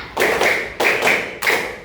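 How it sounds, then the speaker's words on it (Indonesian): Three sharp hand claps at an even, steady pace in a madrasah classroom lesson, close and crisp, with no voices. "Tepuk satu, tepuk dua, tepuk tiga, tepuk empat, tepuk lima."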